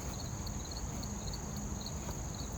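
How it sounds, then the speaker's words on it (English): Crickets chirping outdoors at night, a continuous high, thin trilling layer with faint pulsing chirps over a steady hiss, no voices present. "those crickets are crazy right now"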